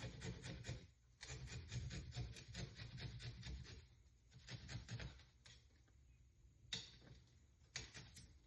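Garlic cloves scraped against a grater make quick, rhythmic rasping strokes in clusters with brief pauses. The sound is close and quiet, with no voices.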